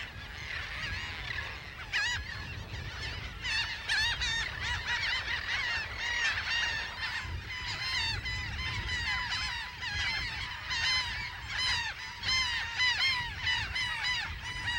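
Laughing gulls call over and over during courtship on an open Texas beach, a dense chorus of nasal, honking cries overlapping near and far, with no talk.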